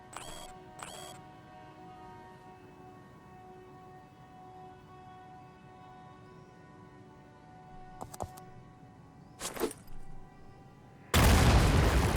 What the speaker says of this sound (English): Let's move up and tag these guys with a grenade.